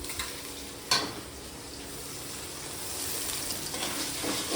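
Ginger and garlic fry with softened onions in a pan, giving a steady close sizzle with one brief knock and some stirring.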